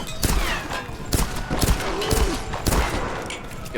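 Gunfire from the 2014 Tomb Raider video game, a rapid series of loud, sharp shots in several bursts spread across the moment, with no voices over it.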